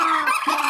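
A quick, loud burst of turkey gobbling, close by and rapid.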